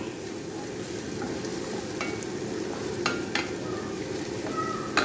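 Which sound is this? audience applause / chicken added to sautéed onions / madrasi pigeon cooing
chicken added to sautéed onions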